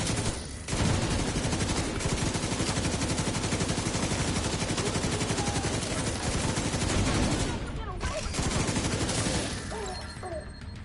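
A minigun in The Division 2 fires a long, continuous rapid-fire burst, dense and loud for most of the stretch before cutting out briefly and trailing off near the end.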